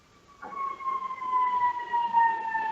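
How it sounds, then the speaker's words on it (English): An ambulance siren sounds in the distance, a steady sustained wail that slowly falls in pitch and holds moderately loud throughout. "Ambulance."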